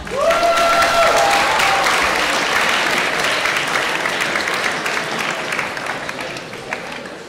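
Loud, sustained audience applause and clapping at a school election debate, starting strong and gradually tapering off, with a brief tone at the start.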